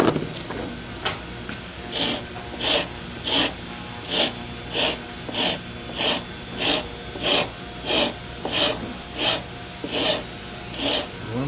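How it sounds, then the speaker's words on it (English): A horseshoe rasp files a wooden saddle horn in steady, evenly spaced strokes, each a bright scraping rasp, close and moderately loud, repeating about twice per second with no talking. "now I'm going to take my handy little horseshoe rasp"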